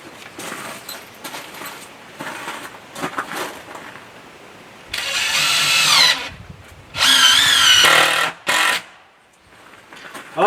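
Power drill driving screws into timber framing of a cabin wall, several bursts of whining motor and grinding bite, two long loud runs followed by a short one, separated by quieter handling noise and faint background activity.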